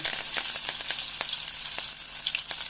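Green chilies crackle and sizzle in hot oil, a dense hiss of frying with scattered sharp pops and spits throughout, close and steady with no voices.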